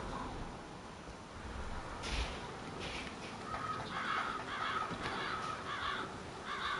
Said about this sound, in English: How do I get rid of the birds?